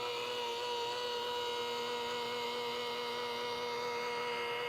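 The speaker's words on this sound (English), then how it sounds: "just enough to hang on to the polisher" Steady whirring drone of an electric polisher with a foam pad running at low speed on a Defiance Admiral boat hull, a constant tonal hum with no voices.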